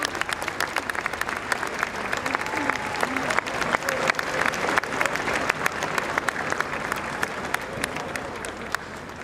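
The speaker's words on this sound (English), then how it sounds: "smiles greeting the applause as the King and Queen Consort emerged from St Giles" Continuous crowd applause outside St Giles' Cathedral in Edinburgh as the King and Queen Consort emerge, dense, steady clapping with a fairly loud, sustained texture and voices mixed faintly into it.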